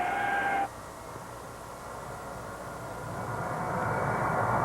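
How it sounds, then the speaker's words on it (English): A Lockheed C-5 Galaxy military cargo aircraft drones with a continuous engine roar; a higher whine cuts off early, then the broad rumble slowly swells louder toward the end, with no voices. "the C-5 Galaxy is the free world's largest military cargo carrier"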